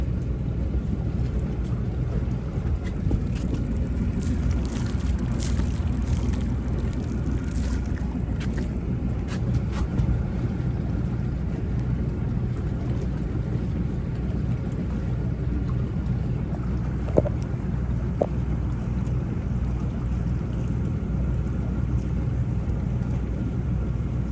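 A boat's engine drones steadily as it motors out of Gosport harbour in December, heading into the wind, with a low continuous rumble buried under heavy wind buffeting on the microphone.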